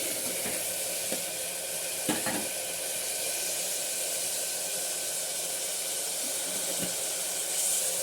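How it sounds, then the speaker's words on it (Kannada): Bottle gourd palya fries in a pan with a constant soft sizzling hiss, joined by a few faint clinks and scrapes of stirring, with no voices. "ಹೀಗೆ ಫ್ರೈ ಆಗ್ತಾ ಇರಲಿ"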